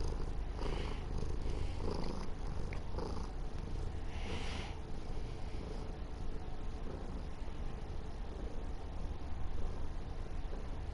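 House cat purring right up close, a steady, rumbling, continuous drone that stays loud and even throughout without any talking.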